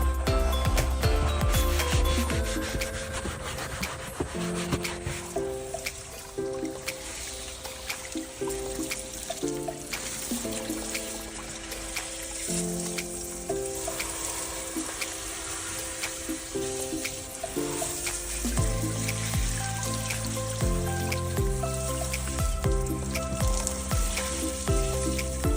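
A brush scrubs a flood-damaged car dashboard coated in clay while a hose sprays water over it, a continuous close hissing spray mixed with rhythmic scratchy scrubbing and trickling runoff.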